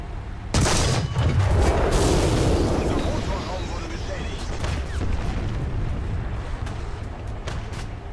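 Tank cannon fire in the War Thunder video game: a loud, close boom at the start with a long rumbling tail, followed by mechanical clatter as a voice speaks over it.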